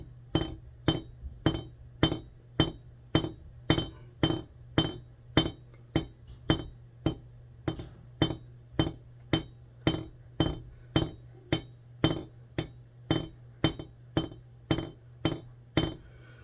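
A steel hammer peens the pivot pin of a straight razor with steady, evenly spaced sharp metallic taps, about thirty strikes with a bright ringing clink, close and loud against a low constant hum, no talking.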